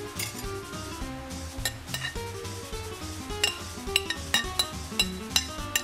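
Chopped parsley gets stirred into a bowl, a spoon scraping and knocking against the sides in quick uneven clinks that grow sharper toward the end, close and alone without talk.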